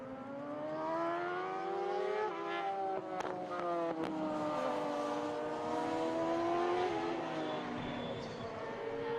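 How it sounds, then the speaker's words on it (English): Racing sidecars at the 2014 FIM Sidecar World Championship at the Sachenring, several high-revving engines whining and shifting pitch together as they pass, loud and continuous, with brief sharp pops. "Tim Reeves Racing set 3 fastest lap times in 3 laps"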